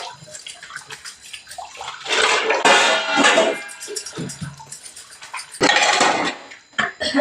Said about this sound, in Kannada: ನಾನು ಅಷ್ಟು ಪಾತ್ರೆ ಬೆಳಗೋಣ ಅಂತ ಅಂದ್ಬಿಟ್ಟು ಪಾತ್ರೆ ಬೆಳಗ್ತಾ ಇದ್ದೀನಿ